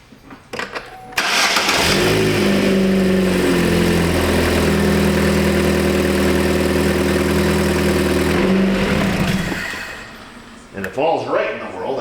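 A 2012 Chevy Cruze engine cranks and starts, then settles into a steady, loud idle for about six seconds before cutting off, with brief voices afterward.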